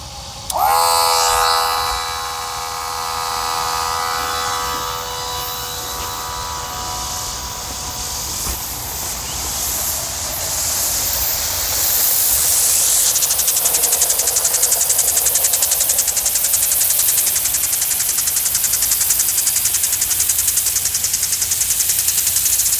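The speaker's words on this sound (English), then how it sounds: "All right, let's turn the pump back on" Home irrigation pump switched back on, a steady mechanical whine and hum that settles in after a brief startup and keeps running alone, growing slightly louder and hissier toward the end.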